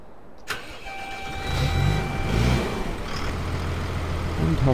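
A Hurlimann tractor engine in Farming Simulator 2013 cranks over and catches, then settles into a steady mid-pitched diesel idle with slight revving, heard up close and alone.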